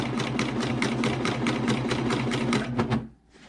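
Pfaff Admire Air 7000 serger stitching a Christmas tree napkin: a fast, steady mechanical chatter running continuously at close range for about three seconds before it stops abruptly.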